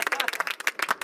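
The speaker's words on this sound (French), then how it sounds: "Applaudissez-le s'il vous plaît" Brief applause bursts from a small audience at an urban culture event in Besançon, sharp close claps in an uneven rhythm lasting about a second, with voices mixed in.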